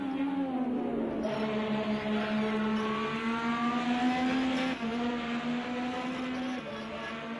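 IndyCar race cars scream around the Road America course in a racing video game, a sustained high-pitched engine whine that rises and shifts as cars pass, loud and continuous throughout.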